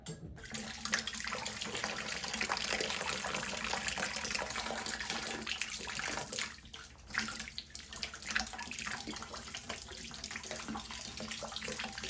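Water drains steadily out of a central boiler system, a continuous rushing gush with no talk, briefly dipping once midway before the flow resumes at the same level.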